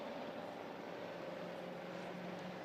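Pure stock race car engines on a dirt oval at the green flag, a steady distant massed engine roar droning evenly throughout, fairly faint.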